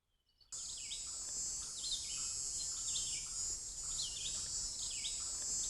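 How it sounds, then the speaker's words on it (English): Cicadas buzzing outdoors beside a hiking trail in the morning: a loud, steady high-pitched drone with repeating chirping pulses, starting abruptly and continuing without talk. "Cicadas, if you can hear that."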